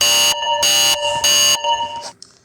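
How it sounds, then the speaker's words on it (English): A loud electronic alarm beeps in three long, harsh pulses separated by short gaps, then cuts off into a brief fading tail. "My alarm went off."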